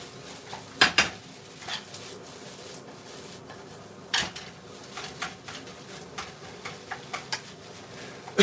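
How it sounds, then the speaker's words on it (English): Onion and frozen rice being stirred in a pan, with a utensil scraping and clinking against the metal in irregular knocks, several sharper clacks standing out over a low background. "I'm now going to add in my onion. You don't want raw onion. And just give that a stir around."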